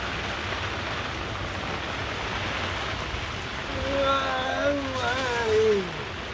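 Rain patters down steadily outdoors where fishermen are cooking, a dense continuous hiss throughout, with a voice-like wavering tone joining in the later part.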